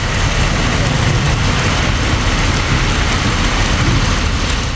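Heavy summer rain pours down in a steady, loud, dense roar, with low rumbling underneath that may be thunder, continuous throughout with no talk.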